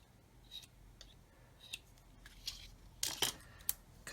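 Sharp snips of scissors through a thin plastic tube during a 1/32 scale OV-10 Bronco model build, a few isolated cuts followed by a quick cluster of louder snips near the end, close and quiet with no talking.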